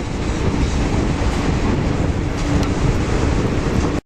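Loud, continuous rumble of a train crossing a bridge with faint rhythmic clatter, close by and steady throughout, no voices.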